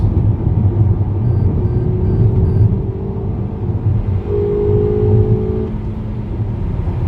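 2019 Toyota Camry XSE on coilovers with a strut bar driving through turns in fourth gear, a steady low engine and road rumble from inside the cabin with a faint whine rising mid-drive.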